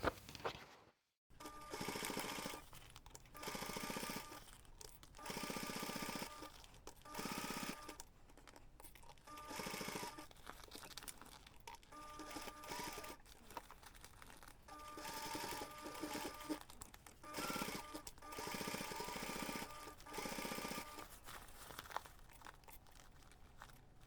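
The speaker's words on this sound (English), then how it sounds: "take this to the machine and sew the seam." Sewing machine stitching a fabric bag seam, running in steady, rhythmic bursts with short pauses between runs, close and fairly loud, with no talking.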